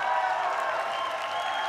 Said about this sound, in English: I got like 26 fans out there that, you know, keep clapping for me